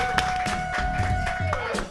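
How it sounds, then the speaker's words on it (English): A studio audience claps for Masta Ace in a live hip hop radio session, with short, uneven rounds of clapping over a voice talking. "Clap it up for Masta Ace."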